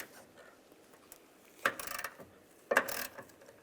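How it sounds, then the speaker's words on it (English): A ratchet with a 13mm socket loosening hood hinge bolts on a 2007-2013 Chevrolet Silverado 1500, heard as two short, close bursts of rapid metallic clicking over a quiet background. "Now we're going to loosen up these two bolts. Use a 13mm socket."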